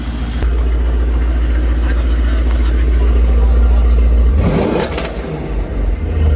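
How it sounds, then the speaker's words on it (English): A car engine revved from cold, a loud, steady low rumble held for several seconds before the note shifts as the revs change, near and continuous with no talk over it. "I'm revving it at cold."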